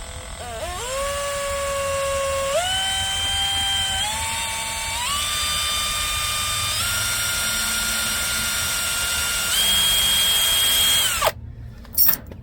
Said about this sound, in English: Drill them out and put that easy out